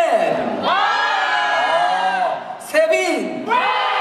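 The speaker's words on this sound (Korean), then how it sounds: "제가 볼 때 한 명은 지금 계속 소리 지르고 있습니다, 지금." Fans at a fan signing event for the K-pop group S.I.S at Avenue 8th Street screaming and cheering in loud, rising bursts, close and crowded, with high shrieks cutting through the noise.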